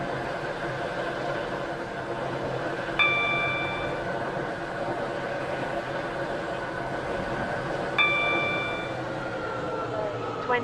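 Inside a train in the Stepford County Railway game, the carriage hums and rumbles steadily as it approaches a station, with two bright chime tones about five seconds apart over an announcement voice.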